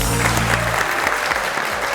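An audience at a televised talk show applauds loudly to welcome the host, a dense, continuous burst of clapping with a low musical bed fading under it.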